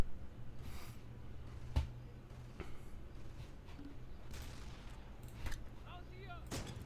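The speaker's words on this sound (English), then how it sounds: "Once again, they're firing back." Enemy soldiers firing in the war game Close Combat: scattered sharp gunshot cracks, a few louder reports among fainter distant ones, spread over a low rumbling background.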